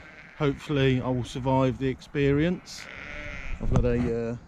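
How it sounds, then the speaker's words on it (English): Sheep in a field beside the River Blythe bleat repeatedly and loudly nearby, several drawn-out wavering calls in quick succession, while someone talks over and between them. "I think the sheep think I'm here to feed them"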